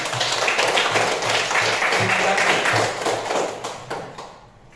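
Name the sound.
applause for a student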